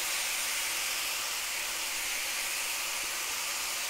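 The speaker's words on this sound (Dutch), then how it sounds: "Ik hoop dat jullie het ook horen, dat het lekker begint te sissen en te pruttelen." Soy sauce and balsamic vinegar sizzle and bubble in a hot pan with legumes, a steady close hiss lasting throughout with no break or voices.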